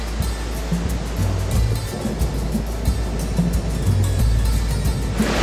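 The Chenab river flowing at the Chandra-Bhaga confluence in Lahaul, Himachal Pradesh, a constant broad rushing roar of fast water, steady and fairly loud throughout, with some low rumbling tones underneath and no voices.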